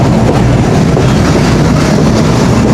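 Inside a Mahananda local train in Bangladesh departing Phultala toward Beledanga, a loud, continuous rumble of the carriage fills the space with steady clatter and no voices.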